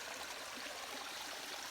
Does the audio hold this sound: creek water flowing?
yes